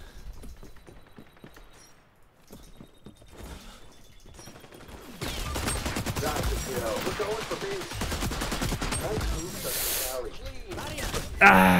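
Rapid gunfire bursts in the XDefiant shooter, sharp shots and automatic fire building from sparse cracks to a dense, loud stretch, while a player talks excitedly over the shooting.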